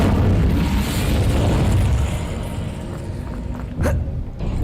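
A fiery Incendio spell bursts in a Harry Potter video game, a loud, rumbling explosion that swells, fades slightly, then flares again with a sharp pop near the end, with no talking.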